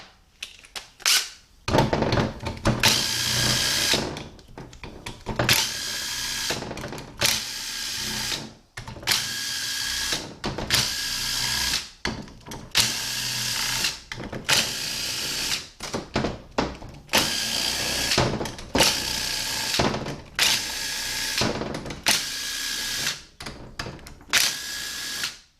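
Power tool with a 7mm socket spinning out bolts from a 6L80-E transmission case, in repeated loud bursts of a few seconds each, separated by short pauses.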